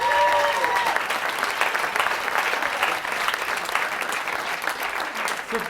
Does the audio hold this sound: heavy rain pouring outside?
no